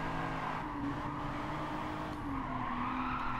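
Tires skidding and squealing under heavy braking on a Nissan race car in Gran Turismo 7, a sustained tonal screech over engine drone, fairly quiet and continuous with no talk.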